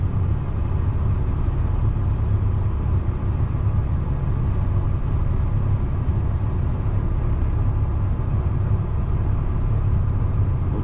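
Truck engine rumbling steadily at idle while a loader fills it with cow manure on a farm, a low continuous drone heard from close by, unchanging for the whole stretch, with no voices.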